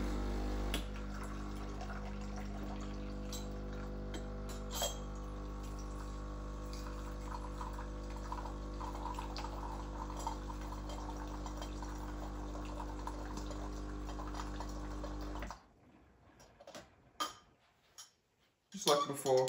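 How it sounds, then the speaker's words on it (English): The hot water tap of a Breville Barista Touch BES880 espresso machine runs with a steady humming pump tone and the hiss of flowing water for about fifteen seconds, then cuts off, leaving a few clinks and soft handling noises. "It has gotten cold, so I'll be using our handy hot water tap to warm it up."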